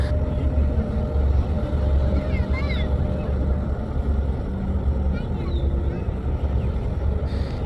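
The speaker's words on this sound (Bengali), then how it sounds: "কাজল সাত এবং কুয়াকাটা এক এই লঞ্চ দুটো অনেকটা স্লো গতিতে যাচ্ছে" Passenger launches Kajal 7 and Kuakata 1 cruise slowly along the Lohalia river, a steady low engine rumble and water wash under wind noise, with a voice talking over it.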